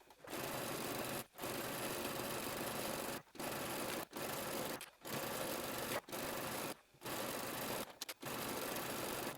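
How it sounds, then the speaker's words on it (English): A sewing machine runs a stretch stitch along a hem, edge stitching all the way around: loud, close, steady whirring in several long bursts separated by brief pauses, with no talking. "I'm going to use a stretch stitch, and I'm going to edge stitch all the way around to hem this."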